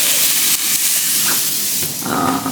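A steak sizzles in a pan in a Boston apartment kitchen, giving off a loud, continuous, steamy hiss that holds steady for a couple of seconds.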